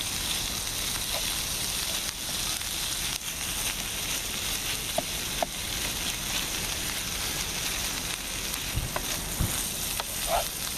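Tinned beef fries in a pan on a camping stove, giving a steady close sizzle and hiss throughout with occasional small pops and clinks.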